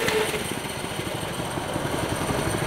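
A Mudstar 200 mini bike's small chain-driven engine runs steadily at moderate volume, a buzzy, uneven putter with no speech over it.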